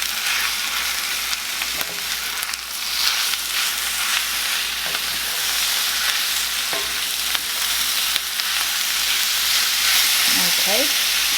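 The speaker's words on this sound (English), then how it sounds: "So now what we're going to do is add in our cube steak. And we'll give this a little toss." Cube steak sizzles loudly in a hot pan with a dense, steady hiss throughout, and now and then the meat and utensil clatter as it gets tossed. A voice murmurs briefly in the background.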